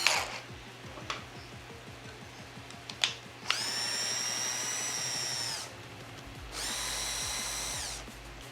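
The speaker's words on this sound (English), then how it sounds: "we're gonna have to unscrew this control linkage" A power tool unscrews the control linkage on a Hangar 9 Extra 330SC RC plane, giving two high, whining bursts of about two seconds each, close by, after a few small ticks and taps.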